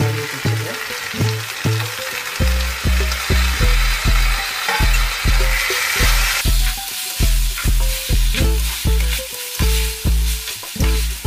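Chopped tomatoes sizzle loudly in a pan for a Tamil-style chicken fry, with steady frying hiss broken by a regular rhythm of scraping stirring strokes throughout, and no talk.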